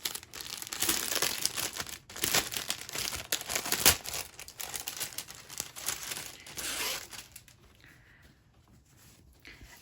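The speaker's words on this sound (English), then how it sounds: "the canvas comes in this great plastic bag" A plastic bag holding a stamped cross stitch canvas crinkles and rustles up close as it is handled, in dense bursts that fade to quieter, sparse crackles toward the end.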